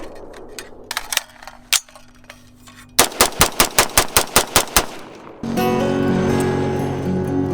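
Foxtrot Mike FM-15 Gen 2 side-charging AR rifle fed from steel magazines fires ten rapid, sharp, loud shots in an even burst, preceded by a few metallic clicks and handling noises and followed by a steady ringing hiss.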